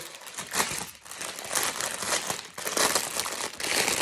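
Continuous crinkling and crumpling of plastic packaging as a diamond painting kit is pulled open by hand, close and loud, with bursts of rustling and tearing and no talking.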